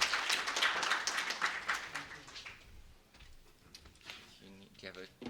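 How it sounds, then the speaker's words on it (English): Applause from a conference plenary audience, dense broadband clapping for about two and a half seconds that fades out, followed by quieter speech. "Can we welcome him with a round of applause?"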